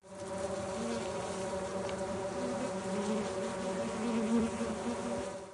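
Circuit bees swarming around a beehive in Lethal Company, a thick, constant electric-tinged buzzing drone that holds steady and close throughout, swelling slightly near the end.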